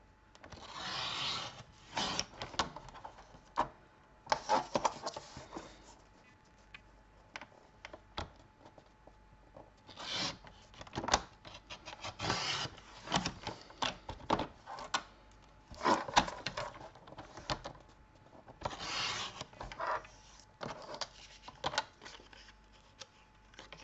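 Paper is cut for a pop-up Christmas card, heard as close, quiet bursts of snipping and rustling in irregular clusters separated by short pauses.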